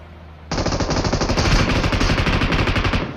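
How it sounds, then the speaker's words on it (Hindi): A loud, sustained burst of heavy automatic gunfire in a shooting video game starts abruptly and hammers on rapidly and evenly for nearly three seconds before cutting off. "फायरिंग आती है तगड़ी वाली"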